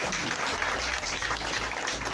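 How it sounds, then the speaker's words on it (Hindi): An audience at a public event claps steadily, a dense patter of hands with no voices over it, fairly soft and distant. "ताली हल्की बज रही है, ताली बजा दो।"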